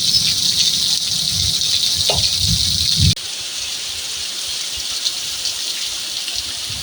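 Heavy afternoon rain pours steadily on a countryside farm in the Brazilian backlands, a continuous loud hiss of falling water with low rumbling patter early on that drops away after a few seconds, leaving a steady rush.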